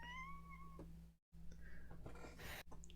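A cat lets out a drawn-out, falling meow at the start, followed by quieter rustling and small noises over a steady low electrical hum.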